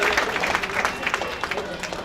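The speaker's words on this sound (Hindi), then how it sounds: "एक बार जोरदार तालियां बजाकर हौसला अफजाई करेंगे।" Applause from the audience at an Independence Day mushaira in Govandi: crowd clapping in uneven bursts, moderately loud, mixed with some crowd noise.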